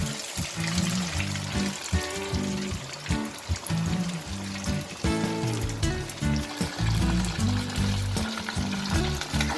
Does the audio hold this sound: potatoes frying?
yes